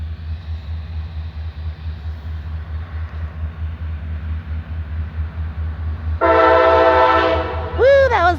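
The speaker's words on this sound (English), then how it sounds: "Here comes a train." A freight train rolls past in West Virginia with a low, steady rumble, then a loud, close horn blasts for about two seconds and is followed by a shorter bending blast.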